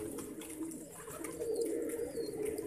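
Pigeons in a loft kept for sale, including a dark kalsara pigeon, coo softly in low steady murmurs with faint chirps above, continuous and close through the short stretch.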